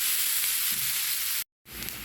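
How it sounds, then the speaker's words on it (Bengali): Onion frying in oil left over from fried puti fish, a steady close sizzle that briefly cuts out before resuming. "ভেজে নিব বাদামি করে পেঁয়াজটা ভেজে নিব"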